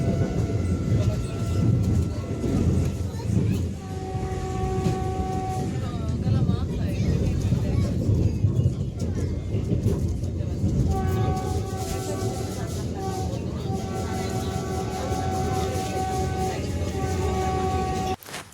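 Onboard the Vande Bharat Express from Howrah to Gaya, a continuous rumbling train ride with steady rail noise and intermittent tones, with people talking in the background throughout.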